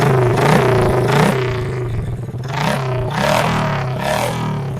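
Touring motorcycle fitted with an M4 aftermarket exhaust, its deep, bassy engine revved up in several surges that rise and fall over a rumbling idle, loud and close.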